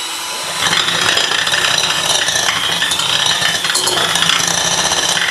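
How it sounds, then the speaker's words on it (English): An electric mixer whisks cake mixture for a Doctor Who TARDIS cake, giving a steady, loud whirring drone that starts about half a second in and runs on without pause. "we'll just switch that on. We'll start it off. And we whisk this."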